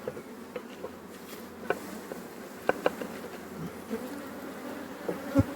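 Honeybee swarm buzzing inside a hive box fitted with wax foundation sheets, a steady low hum of many bees close by, with brief louder buzzes as single bees fly past and occasional small knocks, no talk.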